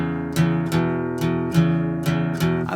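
Open, undamped blues chords on guitar, strummed in a steady rhythm of about six strokes that ring and sustain into one another, close and full with no talking.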